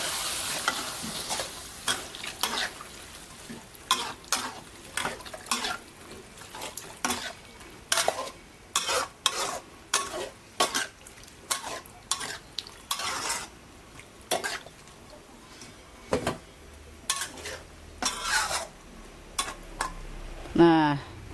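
Betawi sayur godok vegetable stew cooking in a pot and being brought to a boil, with repeated sharp clinks of a utensil stirring against the pot and a faint bubbling underneath, and a voice speaking near the end.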